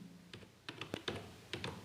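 Keys clack on a computer keyboard, a handful of quick, close taps in an uneven rhythm with short pauses between, quiet and alone with no talk.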